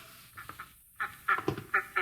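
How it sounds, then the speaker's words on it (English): Ducks at a zoo in a radio drama quack in short, nasal bursts, several calls in quick succession, close and fairly loud with brief pauses between them. "Here are the ducks."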